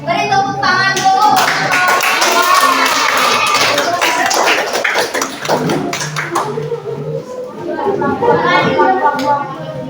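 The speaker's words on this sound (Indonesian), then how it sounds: "Boleh beri tepuk tangan dulu." Children in an Indonesian classroom clap together loudly for several seconds, a dense burst of hand claps that briefly thins and then picks up again, with kids' voices chattering over and between the clapping.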